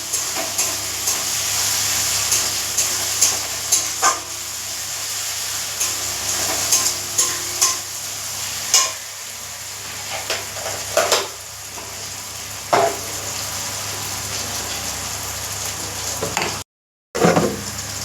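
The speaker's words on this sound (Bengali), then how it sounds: "দেখো মশলাটা কিন্তু খুব ভালো করে কষানো হয়ে গেছে।" Ground cumin and ginger paste frying in a pan, a continuous close sizzle punctuated by intermittent scraping and stirring clicks, with a brief dropout near the end and no talk.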